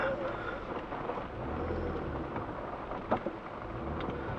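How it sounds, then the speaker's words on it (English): Steady rain falls on an off-road trail, a constant wash of noise with a brief louder knock partway through and a voice speaking over it. "Just keep in mind that it's already started to rain"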